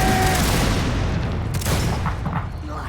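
A gunfire volley in a Mount & Blade multiplayer battle, heard as dense, loud crackling musket shots over a rumbling, roaring din of combat.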